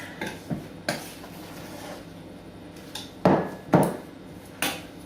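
Chocolate chip cookie dough getting a quick stir in a bowl: a few scattered scrapes and clunks of spoon against the bowl, with louder knocks near the end and no voices.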